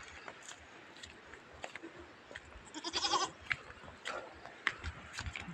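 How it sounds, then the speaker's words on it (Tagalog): A goat on a rough mountain path gives a short, fairly faint bleat amid quiet outdoor background noise. "Ang taba ng kambing."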